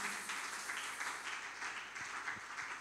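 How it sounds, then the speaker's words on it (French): Church congregation applauding, a sustained wash of clapping that is fairly distant and even throughout, with no distinct voices. "nous acclamons plus fort pour le Seigneur"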